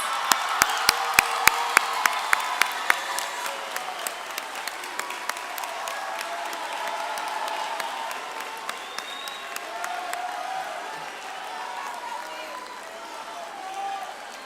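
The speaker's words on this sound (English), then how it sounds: "Let's give them a big round of applause." Audience applause at a school graduation ceremony honoring club members. It opens with a few sharp, close individual claps that grow into a broad, steady ovation, fading gradually. The clapping is moderately loud and comes from a large crowd.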